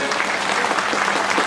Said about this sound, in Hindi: आप लोग भी तालियों की गड़गड़ाहट के साथ अपने